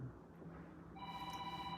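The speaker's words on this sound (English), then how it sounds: "that's my phone." A mobile phone rings indoors during a quiet conversation, a faint electronic tone pattern beginning partway through and repeating steadily until the end.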